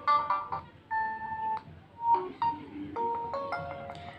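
A short electronic alarm ringtone melody from a Realme 9 5G phone, bright beeping tones playing in quick separate notes, fairly soft and close.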